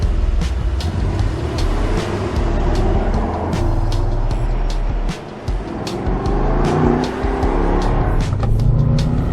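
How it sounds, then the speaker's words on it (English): A powerful twin-turbo V8 engine roars steadily at close range, with a continuous throaty rumble and a brief dip in revs partway through. "I am loving that signature V8 sound"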